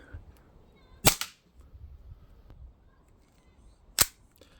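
Springfield Armory XDM 3.8 Compact CO2 pistol shooting 4.5mm BBs: two sharp, loud snapping shots about three seconds apart, each a brief crack over a quiet background with no talking.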